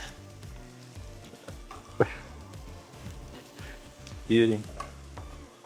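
Sautéing in a pan gives a low, intermittent sizzle with a couple of sharp metallic clatters, while people talk over it and music plays underneath.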